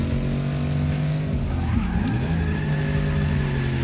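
A car drifts in Forza Motorsport 6 with a steady engine drone and tires skidding and squealing through a slide, the pitch dipping and recovering midway, loud and continuous.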